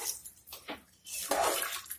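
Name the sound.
water poured into rice for vegetable biryani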